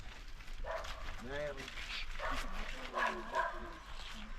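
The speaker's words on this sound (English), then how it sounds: "a dog barking." A dog gives a few short yips and whimpery barks, fairly faint, mixed with background voices and ambient noise in Barrouallie, St. Vincent and the Grenadines.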